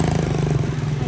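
A Tora-Tora motorcycle on a ride to an inasal restaurant, its low steady engine drone running throughout, close and continuous, with a voice speaking over it.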